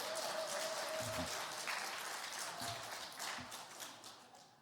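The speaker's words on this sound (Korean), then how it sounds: "방송실을 위해서 힘찬 박수 한번 보내주세요." Church congregation clapping together after a sermon request, a steady round of applause that starts full and gradually thins and fades, heard from a distance at low level.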